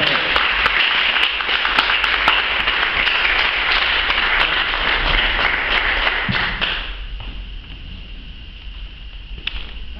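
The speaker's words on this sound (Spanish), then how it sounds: "Le pido a ella un fuerte aplauso" Audience applause at a tango talk, a dense steady wash of clapping with scattered sharper claps, loud for most of the stretch before thinning and fading toward the end.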